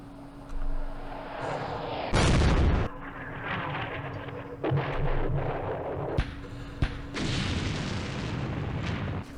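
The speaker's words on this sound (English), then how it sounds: "Here comes that airstrike that completely missed" Airstrike explosions in the Campaign Series Middle East wargame: a loud broadband blast around two seconds in, followed by several smaller bursts and thuds over a steady hum, with no talk.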